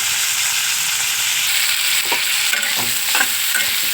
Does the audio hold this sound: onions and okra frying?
yes